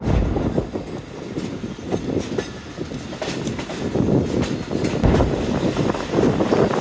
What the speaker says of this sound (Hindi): दोस्तों एक्सेलरेट करना शुरू कर दिया है ZC36 ने।